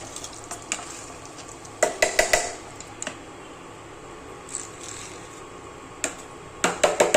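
Pav bhaji vegetables frying in a pan over a high gas flame, a low steady sizzle broken by sharp clinks and scrapes of a spoon stirring against the pan, close and fairly quiet.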